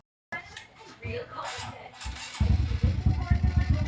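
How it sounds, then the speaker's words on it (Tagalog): A Honda XRM 125 motorcycle engine, just repaired after a knocking fault, cranks and catches, then settles into a rapid, even idle thump close by, with a voice talking over the start. "kung maririnig nyo naman po mga kaidol ay tumahimik na po yung makina"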